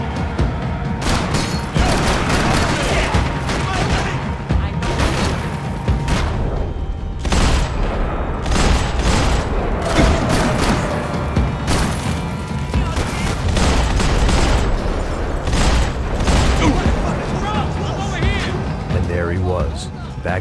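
Dense, continuous gunfire and crashing impacts from a Max Payne 3 firefight fill the scene, with voices shouting over the constant loud barrage.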